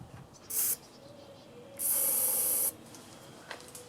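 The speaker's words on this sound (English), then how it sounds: "I'm gonna give her a shot of starting fluid in the" Starting fluid sprayed from an aerosol can into the cylinder of a pressure washer engine that won't start: a short hiss, then a longer steady spray burst of about a second, close and loud against a quiet background.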